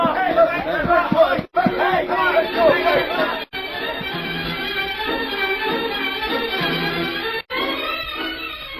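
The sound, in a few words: crowd gathering at the robbed bank, radio drama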